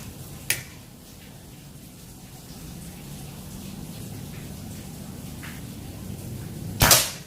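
Predator Python P-32 air pistol with a stainless OD 32 tube at 2700 psi and a 25 cm barrel fires single sharp cracks, one near the start and a louder one near the end, over steady low background hum.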